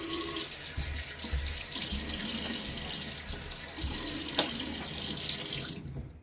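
Tap water runs steadily into a sink while the face is wetted before a shave, a continuous close splashing flow that cuts off abruptly near the end.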